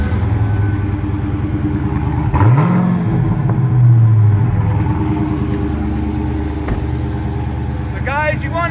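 A 2016 Dodge Challenger R/T engine is blipped once, climbing sharply and then falling back to a deep, steady idle rumble. The car is close and loud and runs through the whole stretch.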